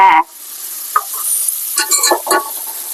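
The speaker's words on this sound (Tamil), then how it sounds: "வெங்காயம் எண்ணெயில போட்டு வதக்கிட்டு இருக்கேன்" Onions fry in hot oil for a home-cooked Sunday chicken biryani. A loud burst of sizzling opens, then quieter crackling follows, with scraping stir bursts near the end.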